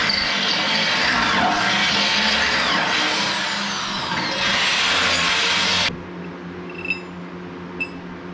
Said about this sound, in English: I'm just gonna try to drill it.